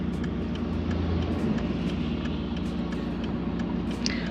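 A car drives along a road toward a mountain area, a steady, moderate interior rumble of engine and tyres with light ticking knocks, even and continuous with no talk.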